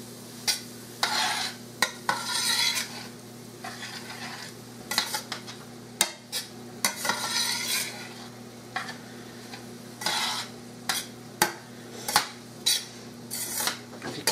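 Garlic stirred in a pan for marinara sauce: a soft sizzle of frying runs under repeated scraping strokes and sharp metallic clinks of the utensil against the pan, close and uneven in rhythm.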